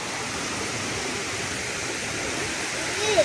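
A river rushes near a campsite at Lata Perahu, a steady, dense wash of flowing water, close and unbroken throughout.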